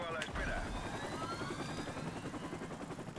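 Helicopter in the Black Ops 4 video game, a continuous rotor drone in a busy game mix with tonal effects and sweeping whistles, steady and moderately loud throughout.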